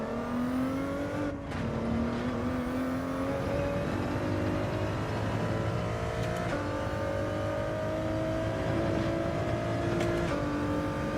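Ford race car engine in Gran Turismo 7, a sustained loud racing engine note rising through the revs with short dips at each gear change, continuous and close throughout with no talking.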